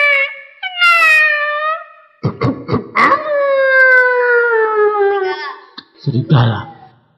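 A storyteller's voice imitates a wolf howl with long, wavering, sliding tones, loud and close, broken briefly by a few rough vocal bursts.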